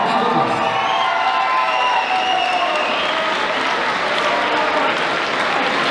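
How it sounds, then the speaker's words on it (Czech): An audience applauds after a school class performance, with sustained loud clapping mixed with cheers and a few shouts, filling the room steadily with no talk over it. "Velký potlesk."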